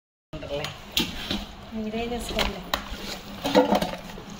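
Andhra-style magai mango pickle being mixed by hand in a vessel with oil, salt and chili powder, giving soft scraping and stirring knocks with a few sharper clinks, under a voice talking throughout.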